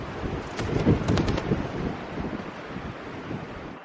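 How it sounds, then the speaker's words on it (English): Strong gusty wind buffets the microphone with a low roar, mixed with a steady rush like surf nearby on the coast at Tenby, no voices. "It's so windy, I can't hold the camera still for the zoom shots"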